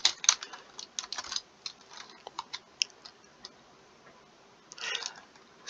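Typing on a computer keyboard, with close, crisp key clicks in irregular bursts, a quiet pause midway, then a final flurry of taps.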